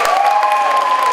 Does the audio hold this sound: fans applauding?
yes